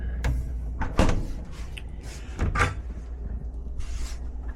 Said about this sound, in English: listen to this door shut